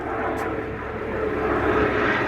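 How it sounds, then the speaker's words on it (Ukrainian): Helicopters flying overhead above a botanical garden in Kyiv, a steady, broad engine drone filling the whole clip at moderate loudness, with no talk. "незрозумілі вертольотики."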